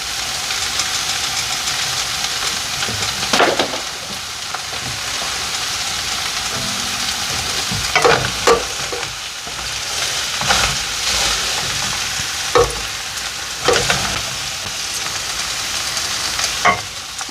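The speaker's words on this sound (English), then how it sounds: "I'm going to stir my cabbage down in there a little bit with them onions" Chopped cabbage being stirred into a pan of frying onions and sausage, a steady sizzle broken by several louder scraping stirs, close and with no talking.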